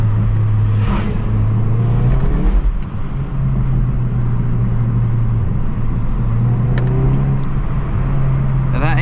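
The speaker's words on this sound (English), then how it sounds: "this car sounds really, really good" A Hyundai i30N hot hatch with a manual gearbox, driven in sport mode, holds a steady loud engine drone with a brief dip and surge of revs, heard from inside the car through a slightly open window.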